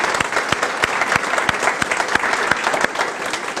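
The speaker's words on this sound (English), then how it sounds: "Let's give them a big round of applause" An audience at an outdoor ribbon-cutting ceremony for a loft building claps steadily, a dense patter of many hands close by and loud, with no voices over it.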